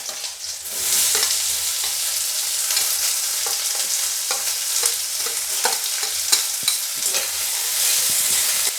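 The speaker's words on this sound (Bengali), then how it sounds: "এখন আমি পেঁয়াজটা দেবো।" Onions fry loudly in a pan, a constant crackling sizzle with frequent scraping and clinking strokes of a spatula stirring them, close and steady throughout with no talking.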